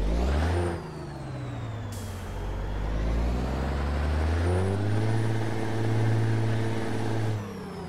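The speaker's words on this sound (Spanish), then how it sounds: "Escuchen el motor." Kenworth T800 truck engine idling and revving steadily up close, with a deep low rumble that rises and falls, plus a sharp air brake hiss partway through; no talking.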